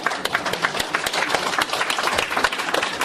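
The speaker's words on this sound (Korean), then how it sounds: "여러분 큰 박수로 환영해 주십시오" A lecture-hall audience at a Thursday philosophy and humanities forum applauds warmly as author Kim Won-il is welcomed, with dense, continuous clapping close by throughout and no speech.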